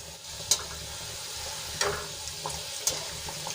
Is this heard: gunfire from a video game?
no